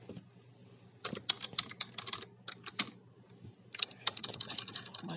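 Rapid keystrokes on a computer keyboard come in irregular bursts with short pauses, close and fairly clear over a low steady hum, with no talking.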